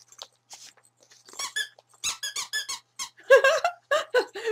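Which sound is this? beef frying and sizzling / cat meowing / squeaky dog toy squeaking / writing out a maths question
squeaky dog toy squeaking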